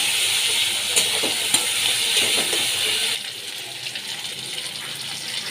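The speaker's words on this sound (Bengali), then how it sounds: "টমেটো দিয়ে দিয়েছি, নুন দিয়ে দিলাম, আদা রসুন লঙ্কা বাটা দিয়ে দিলাম। ভালো করে কষিয়ে নিচ্ছি।" Fish curry masala of tomato, salt and ginger-garlic-chilli paste fries in a pan, giving a soft steady sizzle with a few scraping stirs early on, then quieter frying.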